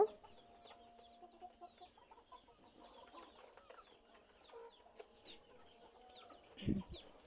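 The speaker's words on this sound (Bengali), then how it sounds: "ছোট মুরগির বাচ্চা" On a small village poultry farm, tiny chicks peep in faint, quick chirps while a hen gives a single louder cluck near the end, all quiet and slightly distant.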